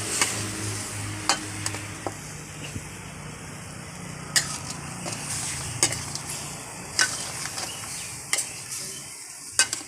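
Fish curry with coconut milk and stock being stirred in a pan over medium heat, a steady low simmering sizzle with light spoon clicks and taps against the pan at irregular intervals, close and quiet.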